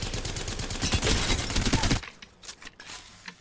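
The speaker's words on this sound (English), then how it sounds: "This is the standard Havoc fire." Standard fire from the Havoc energy rifle in Apex Legends rattles out as a dense, loud automatic burst for about two seconds, then gives way to fainter scattered shots and echoes.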